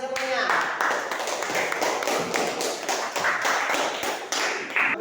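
A group clapping hands in short, rhythmic rounds with brief pauses between them, fairly close and steady, while a voice talks over part of it.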